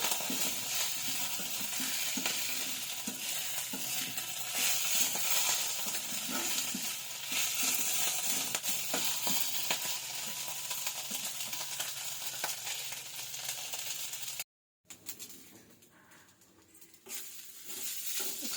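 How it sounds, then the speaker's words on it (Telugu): Moringa leaves fry in a pan with a steady, close, hissing sizzle that continues almost unbroken, cuts out briefly and then returns more quietly. "చూడండి మునగాకు బాగా ఫ్రై అయింది"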